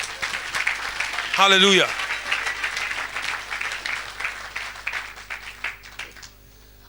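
Soft applause from a church congregation during a service, a steady patter of clapping with a voice briefly calling out over it before the clapping fades away.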